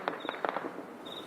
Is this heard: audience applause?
no